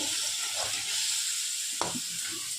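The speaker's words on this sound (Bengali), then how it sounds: "গরম তেলের মধ্যে ছেড়ে দিচ্ছি। ভালো কষিয়ে নেব।" A turmeric and spice paste mixed with water sizzles loudly in hot oil for prawn malai curry, a steady close frying hiss with one brief stirring clink.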